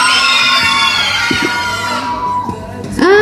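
A large concert audience at a tribute show screams and cheers, a loud, sustained wall of high-pitched shrieks and whoops that fades slightly before surging again at the end.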